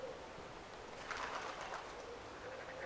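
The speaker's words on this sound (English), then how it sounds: "And that pigeon's just got a massive stick." A pigeon coos softly outdoors, a short series of low murmuring calls rising slightly midway, faint against steady background noise with no talk.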